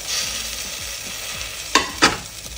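Mutton curry masala frying in a pan, a steady soft sizzle with two sharp scraping stirs of a spoon near the end, no talk.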